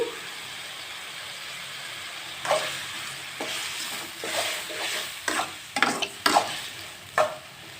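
Tomatoes cook down in a pan for chicken curry, a soft sizzle under repeated scraping stirs that grow busier toward the end, close and fairly quiet.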